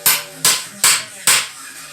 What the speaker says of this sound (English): this is a nice small ball beam hammer. It's good to start out with.